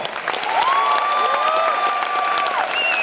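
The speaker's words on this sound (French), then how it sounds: "On applaudit bien fort l'un de nos généreux donateurs." Loud, dense crowd applause fills a political rally hall in Lille, steady and continuous throughout, with a sustained whistle rising over the clapping.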